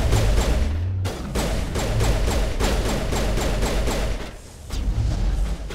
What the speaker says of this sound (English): She's also shooting a wall